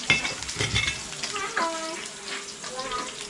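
Sardines sautéing in a pan with onions, a steady sizzle and frying hiss with scraping stirring strokes, close up; faint voices and a few tonal kitchen sounds sit in the background.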